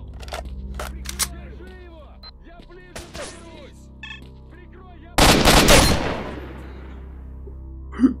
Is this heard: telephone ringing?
no